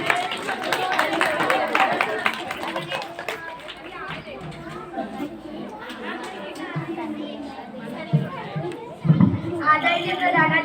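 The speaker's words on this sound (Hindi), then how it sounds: "सब बच्चे जोरदार तालियों से उनका स्वागत करें।" Schoolchildren at a Republic Day school event clap to welcome a guest. Brisk, ragged clapping comes first, then fades into noisy children's chatter and voices close by.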